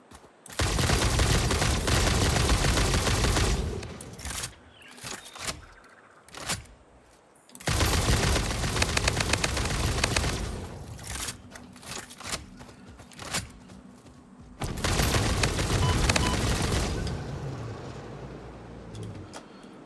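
A gun in the game Satisfactory fires in long, loud bursts of rapid shots, three extended volleys separated by quieter pauses with scattered single shots and clattering.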